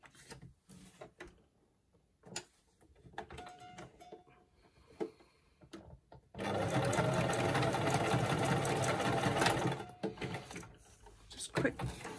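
A sewing machine runs a straight line of stitching across a recycled paper envelope, one steady loud burst of about three seconds set between quiet handling noises, with a short restart near the end.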